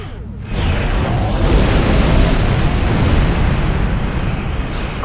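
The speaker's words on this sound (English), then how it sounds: "I will now fire off the quantum phase torpedoes in a spread." A spread of quantum phase torpedoes fires in the Star Trek Online space combat game, a dense, loud, sustained roar of blasts and rumble that swells after a brief quieter start and stays heavy throughout.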